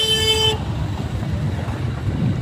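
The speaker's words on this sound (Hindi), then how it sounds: "हमरे बगल से कुत्ता गाड़ी निकला है" A makeshift jugaad vehicle on a market street passes close by, opening with a short loud horn toot, followed by a rough engine rumble and traffic noise that fade as it moves on.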